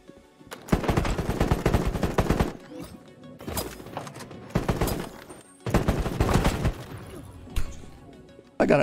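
Gunfire in the video game Battle Prime comes in loud automatic bursts and crashes, in four heavy volleys broken by short gaps, with a player talking at times over the shooting.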